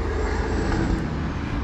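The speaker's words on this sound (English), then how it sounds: "if you couldn't hear it because of the truck" A truck passes close by on a road with a steady, loud rumble and roar that fills the short moment.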